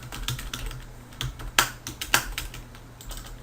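Keys clatter on a computer keyboard as code is typed, an irregular patter of close, crisp clicks with a few sharper louder strokes, heard alone without talk.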